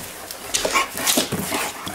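Two dogs, one a six-month-old, whimper and yip while playing together indoors, giving a close, busy run of whines and soft yelps with no talking.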